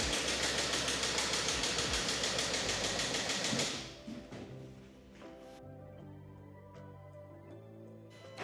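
A Range Rover Evoque engine with an incorrectly installed timing belt, misfiring: loud, rough, rhythmic running for about four seconds, then it drops to a quieter uneven idle with shifting tones and faint clicks.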